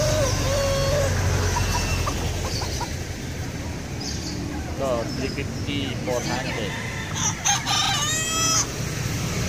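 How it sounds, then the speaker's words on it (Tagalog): Roosters crow and chickens cluck in cages at an outdoor market in Angeles, several calls rising through heavy background bustle while someone talks nearby. "Ay, tandang."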